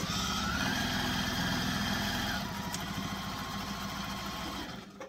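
A sewing machine runs a quick base stitch around the edge of a Logan sling bag, joining its fabric layers, with a steady motor whir and needle chatter that fades and stops near the end.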